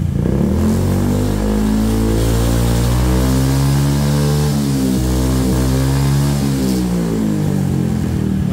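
An automatic scooter fitted with an aftermarket exhaust with a full baffle revs hard and steadily at close range, a loud, buzzy, continuous engine drone that rises and dips slightly, with no talk.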